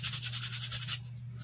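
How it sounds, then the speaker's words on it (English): Sandpaper rubs along the edge of a small fairy house piece in about eight quick, even back-and-forth strokes with a bright, scratchy hiss, close by, then stops. "you can just take some sandpaper if needed"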